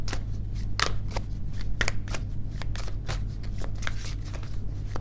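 Tarot cards being shuffled for a reading: rapid, continuous papery riffles and flicks, close and steady, over a constant low hum.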